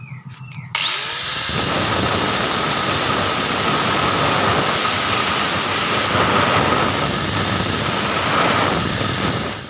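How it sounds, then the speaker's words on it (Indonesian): An angle grinder spins up and cuts steadily on a Suzuki Vixen motorcycle's faulty ignition lock, a loud sustained high-pitched whine over harsh grinding noise for several seconds, close by, with no talking. "kita gerenda biar cepat."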